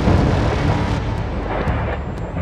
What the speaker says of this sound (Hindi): कई किलोमीटर तक सुनी गई धमाकों की आवाज